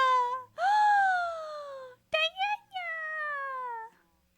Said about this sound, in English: and then if he drops down, there's a cat.